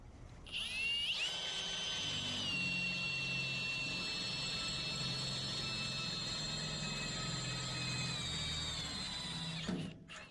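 A power drill with a 1/4 inch bit bores through two layers of sheet metal, spinning up with a rising whine and then holding a steady, high, metallic grinding tone for about nine seconds before stopping sharply.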